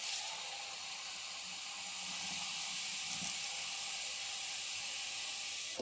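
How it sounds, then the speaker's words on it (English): A water bottle being filled from a tap or dispenser, heard as a steady rushing hiss that grows slightly louder partway through, close by with no talking. "Gotta fill up my water."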